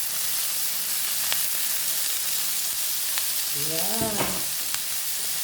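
Bitter melon (ampalaya) drops into a hot pan with cooked chicken and sizzles steadily, a close continuous frying hiss with a brief stir, while a voice speaks a single short word.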